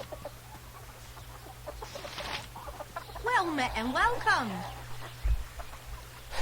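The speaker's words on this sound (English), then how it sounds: "Why do you have all these chickens here?" Chickens cluck and squawk in the Baldur's Gate II game, a clear burst of several calls in the middle, fairly near, with game voices speaking before it.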